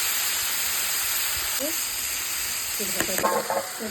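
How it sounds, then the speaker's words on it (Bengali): Potatoes frying in a pan with green chilli and onion, giving a steady close sizzle throughout and a few brief stirring scrapes near the end. "আলুটা ভাজা ভাজা হয়ে গেছে"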